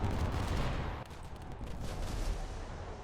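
Aircraft bombs exploding in War Thunder, a loud rumbling barrage of overlapping blasts and gunfire-like cracks, heavy low booms fading slightly after the first second, then rising again.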